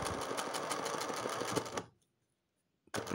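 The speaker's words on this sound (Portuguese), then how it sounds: "a gente vem na bordinha e faz costurinha" A sewing machine runs a close safety seam along the edge of fabric that will later be trimmed. It whirs loud and steady for almost two seconds, stops to silence, then starts up again briefly.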